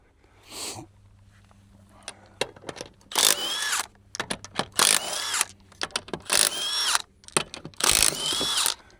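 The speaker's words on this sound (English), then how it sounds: "We're obviously using an impact." An impact wrench zips off the lug nuts on a Polaris RZR PRO XP wheel in loud, close bursts of whirring and hammering, several short runs separated by brief pauses and clinks.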